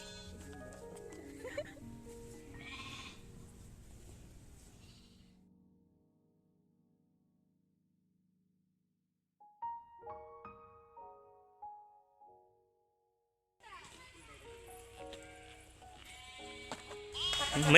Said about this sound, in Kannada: ನೋಡಿ ಚೆನ್ನಾಗಿ ಅವ್ರು ಕರೀತಿದ ತಕ್ಷಣ ಇವು ಕುರಿಗಳೆಲ್ಲ ಹೆಂಗ್ ಬರ್ತಿದಾವೆ.